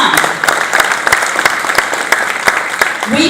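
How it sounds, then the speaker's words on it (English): An audience at a political speech claps in a loud, brisk burst of applause that fills the room and carries on steadily, with voices mixed in toward the end. "Who in this room helped with that effort? Give it a clap."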